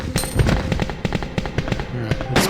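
Rapid gunshots from Claire's weapon firing at a zombie in the original Resident Evil 2, a dense run of sharp cracks over the full stretch with a brief pause near the end, alongside game sounds.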